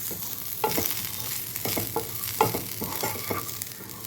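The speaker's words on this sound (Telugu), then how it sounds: "ఆ తర్వాత కావాల్సినంత ఉప్పు, పసుపు ఇవన్నీ వేసి ఒకసారి బాగా కలుపుకోవాలి." Fried onions with ground spice powder, salt and turmeric being stirred in a pan, a soft continuous sizzle with repeated scraping strokes of a spoon, close up and without speech.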